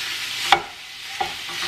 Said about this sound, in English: Now I'm just gonna brown up 1 pound of sausage.